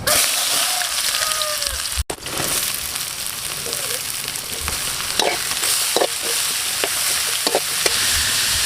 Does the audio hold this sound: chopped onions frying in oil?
yes